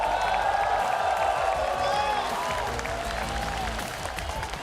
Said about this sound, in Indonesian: Tepuk tangannya dahsyat penuh rasa cinta.